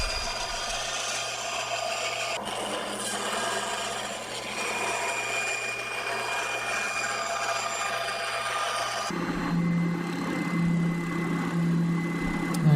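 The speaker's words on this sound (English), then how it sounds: "working that to shape with the drum sander" A drum sander shaping a Buckeye burl back plate for a custom guitar, a loud continuous whirring grind with abrasive rasping that shifts to a steadier hum near the end, no voices.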